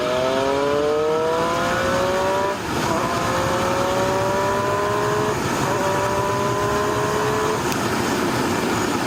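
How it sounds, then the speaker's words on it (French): A 2017 Triumph Street Triple RS 765 motorcycle accelerates in third gear, its engine note climbing steadily in pitch through two smooth pulls with a brief dip between, loud and continuous over wind noise. "petite accélération en troisième"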